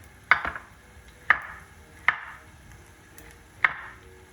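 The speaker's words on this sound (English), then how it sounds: "So we're just going to chop this down." A knife chops porcini mushrooms on a cutting board in four crisp, irregularly spaced strokes, close and distinct against a quiet kitchen background.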